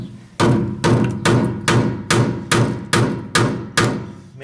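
A sharpened wood chisel is struck repeatedly to cut through an RV truck bed near the gas tank, giving eight or nine loud, evenly spaced hammer blows close by.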